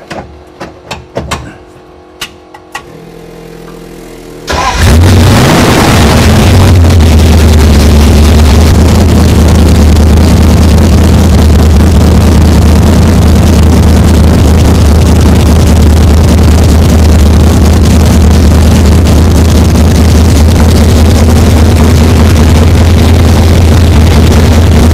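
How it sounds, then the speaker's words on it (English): A hot rod engine in Gene Winfield's custom car The Thing fires up after a few seconds of quiet clicks, then settles into a loud, steady, rumbling idle that runs unbroken to the end. "Gene, let's go ahead and fire it up and get the fuel pressure going"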